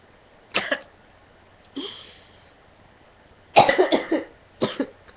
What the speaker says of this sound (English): Cough attack.